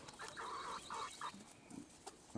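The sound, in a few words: chickens clucking in the coop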